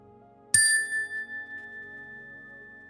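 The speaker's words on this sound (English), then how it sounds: "we'll begin the meditation with the ring of the chime" A single struck meditation chime rings out clearly, its bright tone sustaining and slowly fading with a gentle pulsing shimmer in a quiet room.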